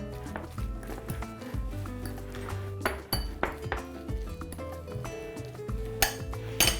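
Drained canned tuna, about 120 grams and meant for onigiri, is mashed in a bowl, giving repeated irregular clinks and scrapes of utensil against dish, close and fairly loud, with no talking.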